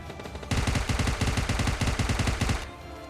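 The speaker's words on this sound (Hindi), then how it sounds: "तो अभी मुझे पीछे से बंदों की फायरिंग की आवाज़ आती है" Automatic gunfire in the PUBG Lite video game: a loud, close burst of rapid, evenly spaced shots lasting about two seconds, then falling off to quiet.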